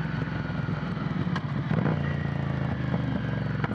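A Ducati Monster 797 motorcycle engine braking, a close, steady low rumbling burble with light mechanical clatter and a few sharp ticks throughout.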